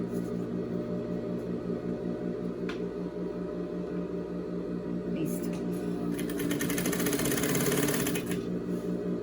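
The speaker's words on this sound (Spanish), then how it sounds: "Lo que yo quiero coser es la costurita del lateral." A sewing machine stitches the side seam of a skirt with a rapid, rhythmic mechanical whir close by. It runs steadily and then grows busier and louder near the end, while a voice speaks softly in places.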